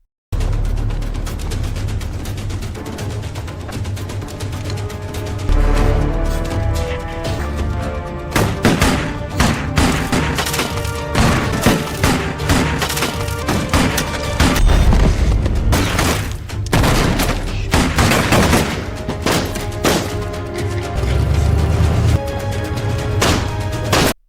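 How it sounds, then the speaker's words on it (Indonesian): A film shootout between police and gangsters fills the scene with loud, rapid gunshots in irregular bursts, mixed with mechanical clatter and booming impacts. "Dalam baku tembak tersebut Mark berhasil menembak salah satu gangster"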